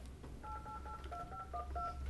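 Telephone keypad tones beep in a quick string of about a dozen short, evenly spaced presses as a conference line is dialed during a grant review committee meeting, faint against a steady low room hum.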